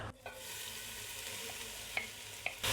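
Chopped onions, cut into large coarse cubes, fry in hot ghee in a pot, giving a steady close sizzle with a few soft clinks of a utensil stirring, and no talking.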